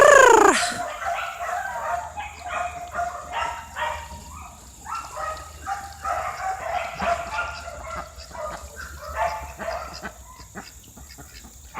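A dog barks repeatedly in short, uneven bursts while chasing birds outdoors, with a sharp squawk at the start and scattered clucking and flapping around it.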